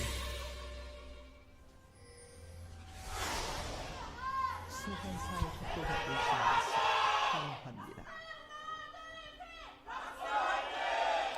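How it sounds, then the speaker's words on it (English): Crowd at an LCK esports match between MVP and ROX Tigers cheers loudly for the team MVP, swelling shouts and whoops from a sizeable audience, sustained and echoing with rises and falls, voices mixed in throughout. "that MVP cheer was louder than I think either of the cheers in the first series"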